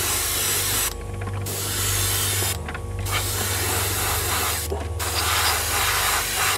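Airbrush spraying paint for basic earth work on a sniper team model base, a loud continuous hiss broken by three brief pauses, with no voices.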